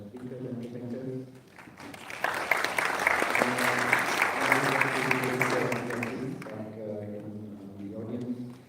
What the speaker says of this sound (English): So I think one round of applause, please